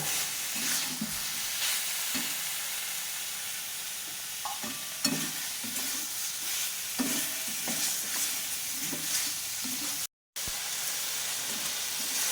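Potatoes and prawns for alu chingri sauté in a hot pan, a steady sizzle and hiss broken by repeated spatula scrapes and stirs at close range, with no talking.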